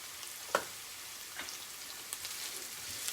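Onions sautéing in a pan with curry leaves for lamb bunny chow, a soft, steady sizzle with occasional light stirring taps, fairly quiet and close, with no voices.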